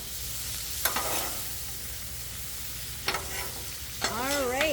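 Vegetables fry on an outdoor Blackstone griddle with a steady soft sizzle, broken by a few sharp scraping clicks of a utensil stirring them and a brief squeaky scrape near the end.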